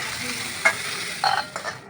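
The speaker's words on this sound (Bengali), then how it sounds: "এটা বেশি কড়া করে ভাজা হবে না হালকাই ভাজা হবে" Food fries lightly in hot oil in a pan, a soft continuous sizzle broken by a few short scraping stirs of a spatula, close by and with no talk.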